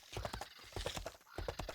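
Mount hoofbeats in the video game Albion Online, a quick steady clip-clop of hooves on hard ground, close and continuous.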